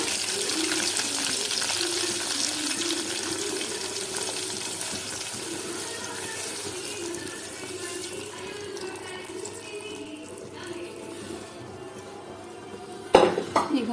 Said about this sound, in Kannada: ಸ್ವಲ್ಪ ಹುಣಸೆ ನೀರು ಅದು ಹಾಕ್ತೀನಿ ನಾನು